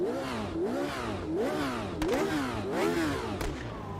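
A DFV-engined Formula race car in the Automobilista 2 racing game revs up and down in repeated rising sweeps, with a couple of sharp pops as the engine comes off throttle.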